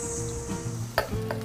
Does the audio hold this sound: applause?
no